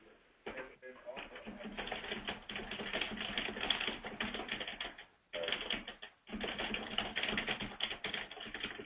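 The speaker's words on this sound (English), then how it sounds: "Marcy, your typing is really loud." Loud, rapid keyboard typing comes through an open microphone on a training webinar call, a dense clatter of keystrokes with two brief pauses. Faint voices talk underneath.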